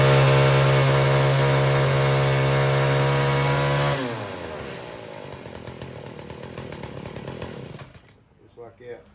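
A Stihl string trimmer engine running after a repair, revving loud and steady with a strong buzzing whine before it drops back to a rougher, uneven idle and sputters near the end.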